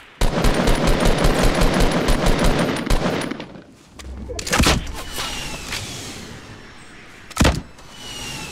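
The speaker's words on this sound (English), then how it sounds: "Warning shots." Gunfire in the Fortnite battle royale game: a rapid automatic volley for about three seconds, then after a pause two separate loud single shots with quieter ambience in between.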